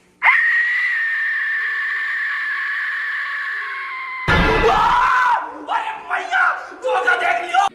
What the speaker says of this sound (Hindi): इंसानी लाशों के चीखने की आवाज़ों वाली ये सीटी